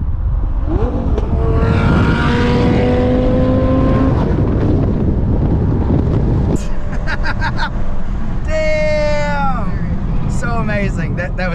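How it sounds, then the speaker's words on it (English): A Lamborghini Gallardo sweeps past on the road, its engine swelling as it approaches, then rising and falling through revs with sharp pops as it pulls away, loud and close, with voices talking over it. "So there's a Lamborghini coming up over the shoulder here"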